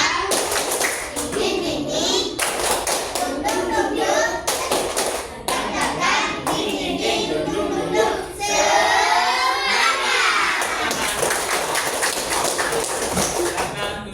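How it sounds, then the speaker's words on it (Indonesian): A classroom group claps a rhythmic chant as a quick ice breaker, loud bursts of hand claps mixed with children's voices and shouting, close and continuous. "Tepuk semangat."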